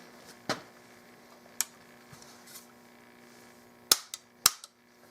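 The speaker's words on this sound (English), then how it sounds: "Both barrels fire." A Winchester Model 21 double-barrel shotgun fires both barrels, a few sharp, brief reports scattered over a few seconds with a pair of closely spaced bangs near the end, heard over a steady low hum.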